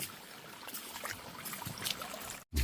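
Rainwater trickles and drips in a forest during a rain shower, a close, uneven watery dribble with small splashes, heard alone and stopping abruptly near the end.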